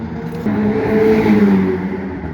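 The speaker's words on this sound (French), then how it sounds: "Là c'est des midgets qui tournent, donc c'est pas des GT3" Midget race cars circle the track at Magny-Cours during a race meeting, a loud, close droning engine roar that swells as a car passes, then eases slightly.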